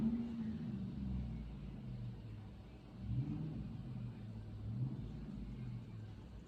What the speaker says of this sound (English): I don't know why people feel like they need to sit here and rev their engines for 5 hours straight.